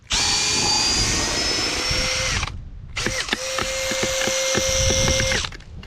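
Cordless drill spinning a mixing paddle through stucco, a steady high whine running for about two seconds, a short pause, then running again with slight speed shifts, close and loud with no talking.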